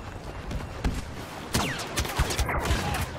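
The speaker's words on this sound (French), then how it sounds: "La cadence de tir de ce sniper est nulle et la vitesse de ses balles est moisie." Sniper rifle shots in the video game Star Wars Battlefront, a few sharp cracks spaced unevenly over a busy layer of distant battle noise, loud and close, with no talk.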